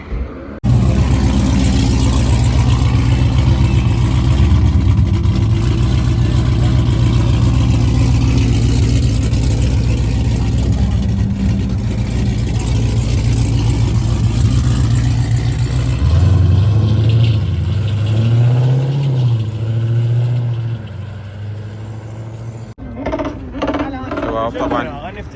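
Ford Mustang engine revving loudly and steadily in a drag race setting in Iraq, a strong continuous roar with pitch rising and falling near the end, mixed with crowd or voices, then cutting off abruptly.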